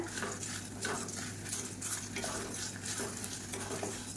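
Spices and fenugreek seeds roasting dry in a pan over a medium flame, stirred with a spoon: soft, continuous scraping and rustling strokes in a loose rhythm, close but quiet, with no voices.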